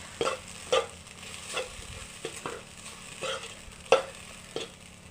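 A coconut mixture for a pappadam thoran being stirred in a pan, soft scraping strokes repeating every half second or so over a faint low sizzle, no voices.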